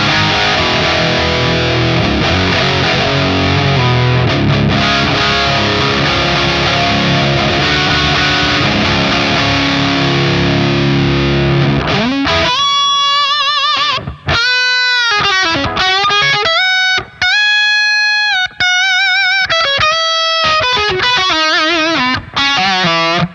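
Electric guitar through a Revv G2 pedal on its red channel with boosted gain: a dense, saturated sustained chord wash gives way to fast, bending distorted lead phrases, loud and close with no talking.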